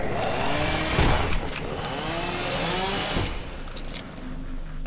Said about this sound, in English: Having a fucking lawnmower come after you